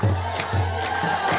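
At an Ethiopian Orthodox Tewahedo church hymn, a crowd ululates in a dense, sustained wave of trilling voices that fills the space evenly.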